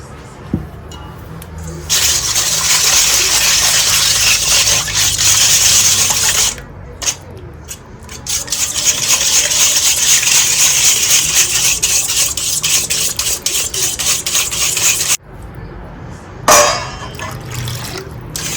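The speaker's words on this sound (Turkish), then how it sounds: "Hemen karıştırıyorum ki çünkü sıcak yağda yumurta hemen etkilenmesin." Melted fat poured into an egg and sugar mixture for dill pastries, then whisked quickly in a bowl, a steady close scraping and rubbing with brief pauses and a few clinks.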